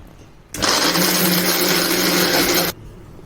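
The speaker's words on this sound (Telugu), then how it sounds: "ఎల్లుల్లిపాయలు వేసుకొని ఒక్కసారి అనిపిద్దాం." A kitchen mixer grinder whirring loudly for about two seconds as it grinds garlic with curry leaves, chili powder, roasted gram, coriander and cumin, starting and stopping abruptly.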